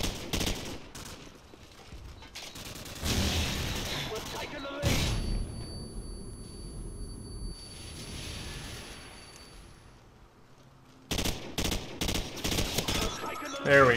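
M16 rifle fire in Call of Duty 4: Modern Warfare online play, bursts of sharp gunshots in clusters with quieter gaps, some distant shots and a final rapid volley near the end.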